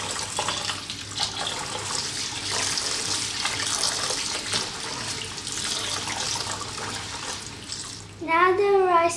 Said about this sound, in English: We're gonna wash it 3 times in cold water.